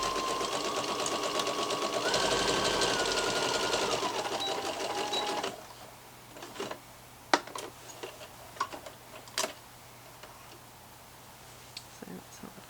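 Sewing machine stitching the edge of elasticated waist kids' shorts, running steadily and fairly loud for about five seconds, then stopping, followed by scattered light clicks and handling noises.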